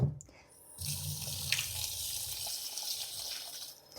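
Cold tap water runs steadily into a container to soak broccoli seeds with a little salt. After a brief knock, it settles into a close, continuous gushing with no voices.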